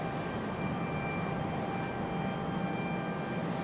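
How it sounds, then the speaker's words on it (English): Southwest Boeing 737-700 taxiing to the runway at Raleigh-Durham International Airport, a steady jet engine hum and broadband roar heard from a distance, with no voices. "Got a Southwest making their way out to the runway."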